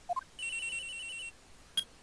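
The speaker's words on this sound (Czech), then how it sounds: "Zhruba v 10:30 mi někdo zavolal na mobil." A mobile phone rings in the Phoenix Wright: Trials and Tribulations video game: two short rising beeps, then a steady high electronic ring held for about a second, and one last short chirp, clean and alone.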